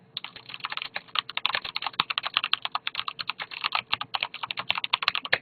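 Rapid, steady typing on a SteelSeries 6GV2 mechanical keyboard, with dense, continuous close-up key clacks throughout and no voices.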